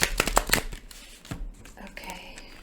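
A deck of tarot cards is shuffled by hand in a quiet room, giving several quick papery riffles and flicks early on, then softer sliding and tapping as the cards settle, close and alone.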